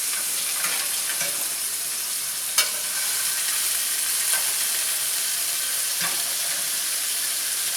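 A smash burger patty sizzles on a hot griddle, a steady loud frying hiss with a few sharp crackles and pops scattered throughout.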